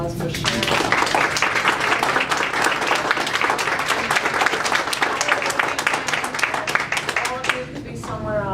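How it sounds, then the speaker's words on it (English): Sustained applause from a conference audience at an equity event, dense steady clapping filling the room for several seconds before tapering slightly at the end, with some voices mixed in. "another round of applause for sharing"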